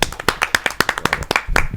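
Loud, close hand clapping at a Hindi poetry gathering, a series of sharp, fairly evenly spaced claps, several individual strikes standing out clearly before a short rumble at the end.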